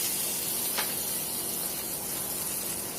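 Butter sizzles in a hot frying pan with spinach pancakes, a steady, bright hiss that runs continuously with a faint spit of crackle partway through.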